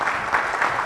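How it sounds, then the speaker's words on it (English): Brief applause from an audience at an energy sector recovery program event, a short burst of dense, even clapping with no voices over it. "we'll give him a round of applause"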